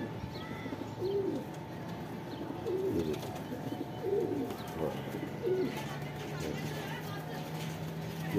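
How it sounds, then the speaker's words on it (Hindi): Pigeons coo softly in short repeated phrases against a murmuring background at a mini zoo in Lahore, with a voice talking intermittently nearby. "ये कबूतर है दोस्तों।"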